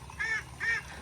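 Ducks kept on a weedy, flood-prone rice field give two loud nasal calls in quick succession, close by, with a low steady rumble beneath and no talking.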